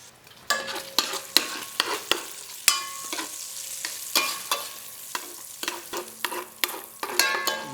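Bacon crisps in a pan for chicken jardinière, a constant sizzle broken by frequent sharp scraping and clattering strokes of a utensil turning the pieces, close and clear with no talking.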